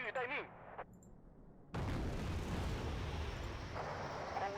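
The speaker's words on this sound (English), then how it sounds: "Now that's a decent cluster bomb." A cluster bomb explodes in the war strategy game Wargame: Red Dragon, a sudden loud rumbling blast that holds as a sustained roar after a brief quiet stretch with faint tones.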